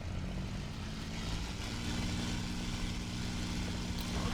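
A P-51 propeller engine in a VR flight simulator combat game drones steadily and continuously, a fairly quiet, even hum with no talk.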